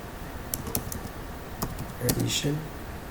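Computer keyboard typing while setting up a C++ addition program, a handful of quick, scattered key clicks close by under low background hum, with a brief voiced murmur near the end.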